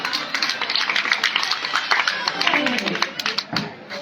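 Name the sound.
audience applause at a Ramleela event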